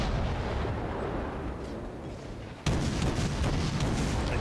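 Naval guns on the USS Sims destroyer fire in World of Warships, a steady rumbling barrage that breaks into a sharp, louder boom of salvos partway through, with no talking.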